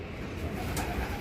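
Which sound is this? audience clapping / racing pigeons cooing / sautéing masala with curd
racing pigeons cooing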